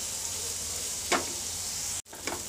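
Beans and carrots cook in a pan with a soft, continuous sizzle, broken by two brief scraping stirs and a momentary cut-out, no voices.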